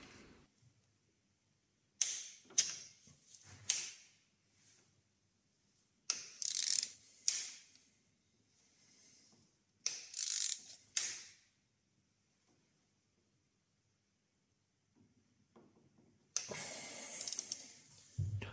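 Ratchet wrench tightening an injector hold-down screw on a 1.9/2.0 TDI engine, heard as several short bursts of rapid clicking separated by pauses, fairly close and alone, with a longer, louder spell of clicking at the end.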